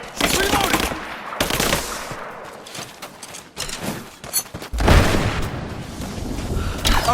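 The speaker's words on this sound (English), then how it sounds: "I'm under fire!" Gunfire in Rise of the Tomb Raider, rapid machine-gun bursts and heavy single shots with booming impacts, loud and close, in irregular clusters across the clip.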